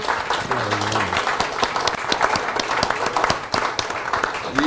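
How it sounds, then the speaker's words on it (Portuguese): At a medical talk, a room full of people breaks into lively applause for Nilson, with sharp individual claps standing out. A brief tonal sound is heard near the start and faint voices come through the clapping. "E uma salva de palmas para o Nilson"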